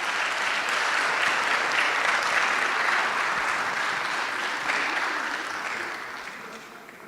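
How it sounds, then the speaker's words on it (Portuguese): Sustained audience applause at an ARTEC design talk in Portugal, a dense, steady wash of many hands clapping that holds for several seconds and then gradually fades, with no speech over it. "Peço uma salva de palmas para a Inês Branco."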